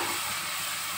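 Okra sautés in a pan with spices, a steady close sizzle of frying with stirring, continuous and alone.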